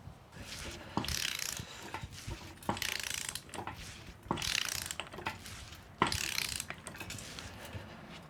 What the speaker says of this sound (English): it'll sit in here so we can hold the yoke in place and tighten up our pinion nut